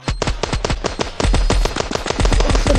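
Loud, rapid automatic gunfire from the mobile shooter game Standoff 2, with around twenty sharp shots in under three seconds and no voices over it.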